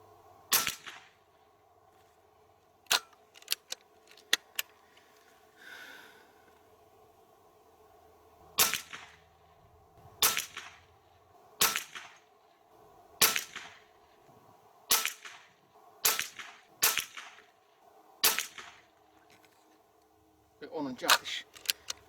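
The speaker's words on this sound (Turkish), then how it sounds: "PCP tam olarak 200 bardan başlıyoruz atışlarımıza." Hatsan AT44 Long LW PCP air rifle in .177 (4.5 mm), charged to 200 bar, fires a string of about a dozen sharp, close shots, spaced unevenly with quiet pauses, some handling clicks between them.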